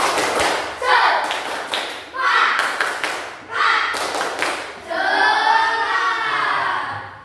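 A classroom of children performs a rhythmic patterned group clap, a cheer routine, with sharp percussive bursts in sets and chanting voices between and over the claps, ending in a sustained shout.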